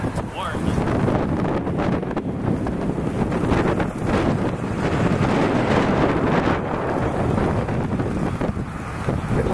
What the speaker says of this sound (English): Get windy today.